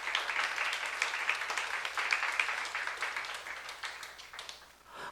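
A church youth congregation breaks into sustained, dense applause during a Sunday sermon, many hands clapping together in a steady wash that fades slightly near the end.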